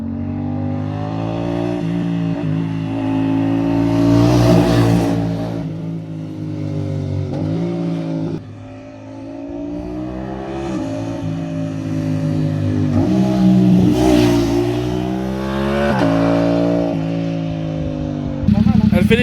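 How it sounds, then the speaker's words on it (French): A Yamaha R7 motorcycle fitted with an Ixil exhaust revs repeatedly up close, with engine tones rising and falling and small crackling pops on the overrun, while people talk over it. "Elle fait des petits retours, hein. Elle fait des petits papapas"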